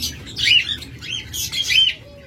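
Green opaline lovebirds at a bird seller chirp in a run of sharp, high-pitched tweets and squawks, close and lively, over low background hum.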